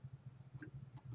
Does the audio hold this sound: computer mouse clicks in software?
yes